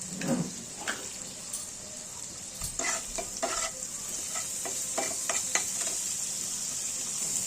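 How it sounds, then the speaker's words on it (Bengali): Browned onion and chopped tomato fry with salt in a pan for a Bengali gule fish curry. A soft, continuous hiss runs under intermittent scraping strokes of a spoon stirring the mixture. "এই পেঁয়াজটা ঠিক আমাদের লাল ভাজা হয়ে গেছে। এখানে আমরা একটা টমেটোর কুচো দিয়ে দেবো।"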